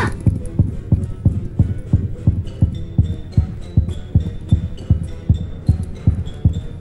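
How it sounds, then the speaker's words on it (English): Loud, steady heartbeat effect in a Roblox game, a rapid regular series of deep double thumps pulsing throughout, with faint higher game tones layered above and no talking. "Okay, I'm hearing heartbeats."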